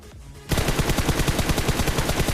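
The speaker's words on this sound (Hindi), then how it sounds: "और भाई सामने बहुत तगड़ी फायरिंग चल रही थी" Sustained automatic gunfire in the PUBG Mobile battle royale game, rapid evenly spaced shots starting abruptly and continuing loud and close without pause.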